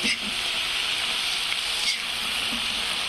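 Fenugreek leaves frying in oil with tomato and garlic give off a steady, close sizzling hiss that holds evenly with no talking.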